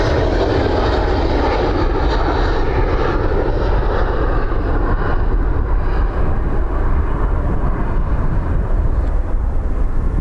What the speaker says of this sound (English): 787-9 Dreamliner.